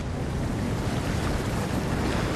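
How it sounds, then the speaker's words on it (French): Ocean waves break at a surf spot on Réunion in a steady, close, roaring wash with rough wind buffeting the microphone; no voices. "Quand tu vois les vagues, là,"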